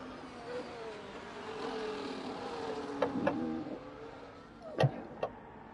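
Haas Formula 1 car engine in a racing video game at the Singapore circuit, a steady droning whine with shifting pitch and a few brief sharp blips, moderately loud.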